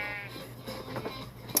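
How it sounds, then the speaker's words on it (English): A sheep in the Minecraft video game lets out a short bleat, quiet under a steady background hum, ending with a brief sharper click. "Even though he's a black sheep."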